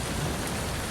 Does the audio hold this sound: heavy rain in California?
yes